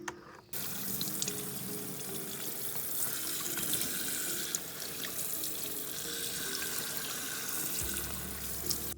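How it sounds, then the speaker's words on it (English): Cold tap water runs steadily over a dirty car air filter from a CorkSport short ram intake for a 2004-2009 Mazda 3, a continuous hissing splash with no talking. "just start rinsing it out from the inside out with some cold water"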